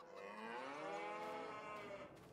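A single cow lowing in Farming Simulator 22, one long, close, drawn-out moo lasting about two seconds, heard alone.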